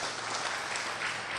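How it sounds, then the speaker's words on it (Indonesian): An audience gives a short burst of applause, a thick, continuous wash of many hands clapping at once, steady and fairly loud throughout with no voices over it. "Tepuk tangan dong."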